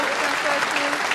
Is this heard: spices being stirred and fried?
no